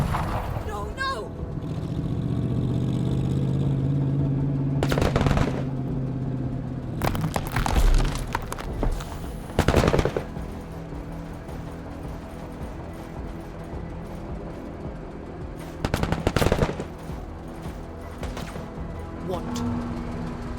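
Gunfire from pirates in the video game Menace breaks out in several sharp, loud bursts amid a rumbling game soundtrack, with a person talking over the action between shots.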